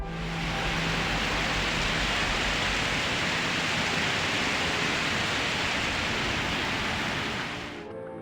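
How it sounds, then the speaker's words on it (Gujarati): Heavy downpour in Junagadh near Girnar mountain, a dense, loud, continuous roar of rain that holds steady for several seconds and then drops off abruptly near the end. "જૂનાગઢના ગિરનાર પર્વત પર ધોધમાર વરસાદ વરસતા ભવનાથ ક્ષેત્રમાં નદીના પાણી પૂરની માફક વહેતા થયા."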